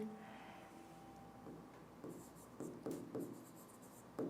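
Marker or chalk strokes on a classroom board, a few faint scratchy taps and squeaks that grow more frequent toward the end, in a quiet room.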